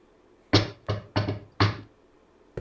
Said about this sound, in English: Would you like to knock on the door?